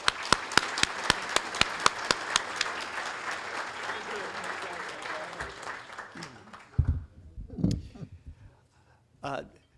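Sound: audience applause for the guest speaker

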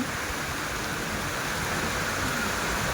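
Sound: heavy rain in Dhaka city

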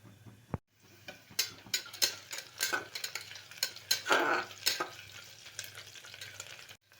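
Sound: whole spices and bay leaf being stirred and fried in a pan

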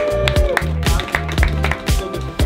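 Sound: audience clapping and cheering

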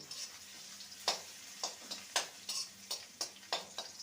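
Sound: crushed garlic frying in a pan

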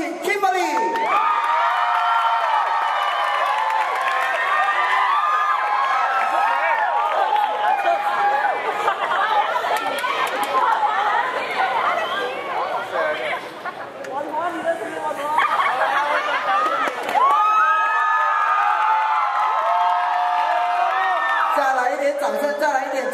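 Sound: crowd applauding and screaming

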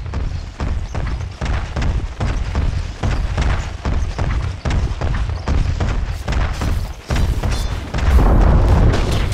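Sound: Dire's top tower attacked and destroyed in video game Dota 2

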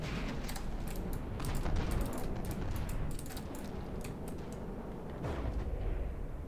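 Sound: CRAM cannon turret firing and explosion in video game From The Depths

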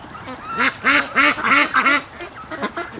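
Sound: ducks quacking in a pen

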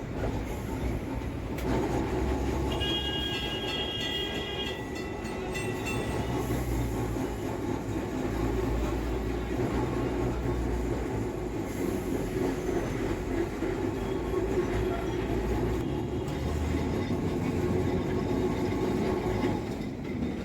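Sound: Kolkata tram running along Lenin Sarani

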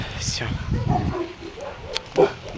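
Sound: Yorkshire terrier dog barking

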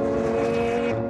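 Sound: McLaren sports car braking hard

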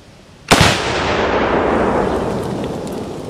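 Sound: gunshots fired from a Saiga AK rifle

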